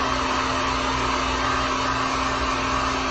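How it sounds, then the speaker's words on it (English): A heat gun blows hot air steadily to dry acrylic paint on a wooden wreath rail sign, a constant close whooshing roar with a faint steady hum and no pauses. "when we're heat gunning, we always want to use light setting"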